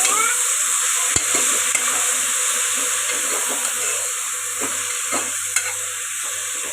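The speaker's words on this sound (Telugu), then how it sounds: "ఇప్పుడు ఒక నిమిషం పాటు బాగా కలుపుకొని ఫ్రై చేసుకున్నాం" Spinach sizzles steadily in a hot pan for Andhra-style palak pappu, with a continuous bright hiss broken by scattered clicks and scrapes as a spoon stirs the leaves; close and fairly loud, no talking.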